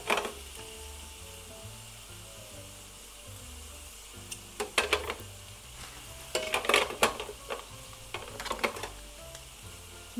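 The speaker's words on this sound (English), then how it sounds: "I'm gonna stir mine around a bit." Food stirred around in a raclette pan, scraping and sizzling softly with bursts of clatter, close by and alone with no talk.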